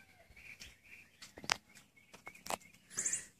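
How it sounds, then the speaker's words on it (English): Songbirds tweet on a spring morning in the open grounds of a lodge in Blairsville, Georgia, with a few sharp, clear chirps and trills rising from a quiet, hushed background. "You can hear the roosters crowing, the birds tweeting."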